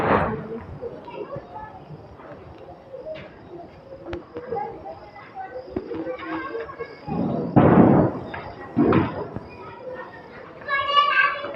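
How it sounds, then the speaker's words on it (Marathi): Butterfly firecrackers go off during Diwali in a few loud bursts among children chattering and shouting nearby, with short crackling pops between the louder blasts. "आम्ही हे बटरफ्लाय फटाके लावतोय"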